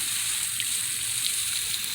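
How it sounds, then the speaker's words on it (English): Water poured onto the soil of a freshly repotted grafted ficus, a steady soft hissing trickle that runs without break throughout, close and fairly quiet. "So I like watering them really good when I first repot them. Get the water all the way down into the soil."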